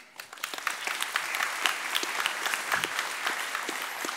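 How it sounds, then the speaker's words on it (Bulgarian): An audience at a programming talk bursts into sustained applause, dense and steady clapping from many hands filling the room for about four seconds without speech. "колко много ръкопляскате"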